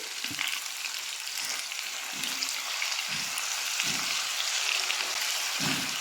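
Tuyo, dried fish, frying in a pan with a steady, close hiss and crackle of hot oil, broken by soft scraping stir strokes about once a second.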